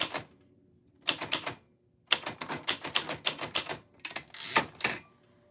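A typewriter clatters through bursts of rapid keystrokes while names are typed out, each flurry separated by brief pauses, close and crisp.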